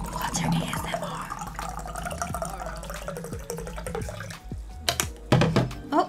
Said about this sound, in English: I need to pour water. Water ASMR!